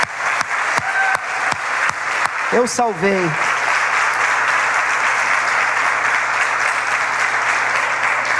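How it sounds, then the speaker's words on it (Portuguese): A church congregation breaks into sustained applause, a broad steady wash of clapping with a few sharp early claps and a preacher's voice briefly heard over it. "Aplaudir o Senhor"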